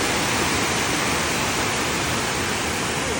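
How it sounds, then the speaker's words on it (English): Steady, dense rush of falling water from a waterfall, a continuous broadband roar holding even and close throughout with no voices or other sounds over it. "Let's check out the waterfall here."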